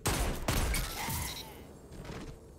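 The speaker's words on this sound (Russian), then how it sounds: "Два выстрела." Two revolver shots fired in the Destiny 2 video game, apparently with explosive rounds, land as two sharp, fairly loud blasts about half a second apart, followed by a decaying rumble and muffled game effects.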